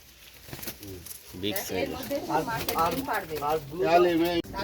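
King and Sirazi breed pigeons in a farm coop make soft, throaty coos and some rustling nearby, with someone talking over them.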